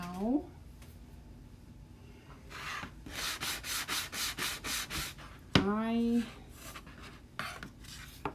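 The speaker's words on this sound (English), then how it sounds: "find my trusty friend electric sander" An electric sander runs over a small chalk-painted piece in a rapid series of buzzing bursts, with short pauses and a rising whine as the motor spins up near the end.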